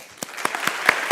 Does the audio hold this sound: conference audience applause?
yes